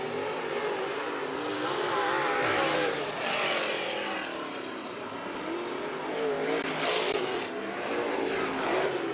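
Race cars roar through the turns at a dirt-track Budweiser Nationals night, engines droning loud and steady across the whole span with swelling passes and no voices.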